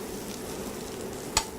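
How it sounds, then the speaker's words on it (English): Sliced fennel sizzles in a hot pan with a soft, steady frying hiss that stays low and even throughout, broken by one brief sharper crackle near the end. "we just get our fennel in there. Hear that nice sizzle."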